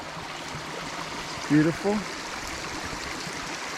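Stream water flowing over rocks at a trail water crossing on a hike to Ravens Cliff Falls, a steady close rushing wash that runs throughout, with a brief spoken remark partway through.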